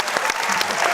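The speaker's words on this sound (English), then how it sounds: "I just realised I individually made you applaud Reggie." Dense audience applause from a crowd at a party event, steady and loud throughout, with many hands clapping at once and no one speaking.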